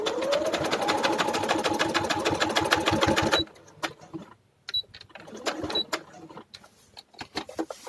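An electric sewing machine runs a fast, steady stitch through buckram and fabric for a high-neck kurti collar for about three seconds, then stops, leaving quiet handling noises and faint clicks.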